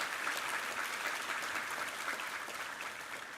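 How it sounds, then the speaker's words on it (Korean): A church congregation claps together during a Sunday worship service, producing steady, dense applause that fills the room at an even level throughout. "우리 하나님께 감사와 영광의 박수 올려드리겠습니다"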